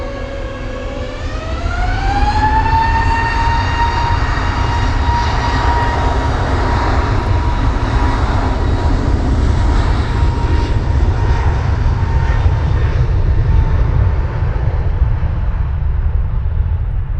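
Airliner taking off from Manchester Airport, a loud rising engine whine joined by a deep roar that holds steady and continuous for many seconds, fairly close, with no voices.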